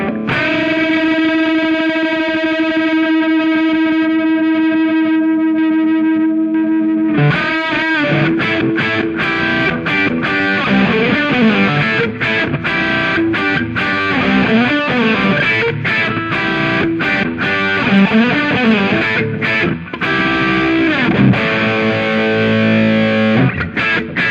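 Loud, heavily distorted electric guitar through a VHT Pittbull amplifier, a sustained chord giving way to fuzzy, saturated riffs and notes played continuously.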